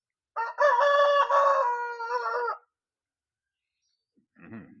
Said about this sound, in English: It's a big cockerel making a noise.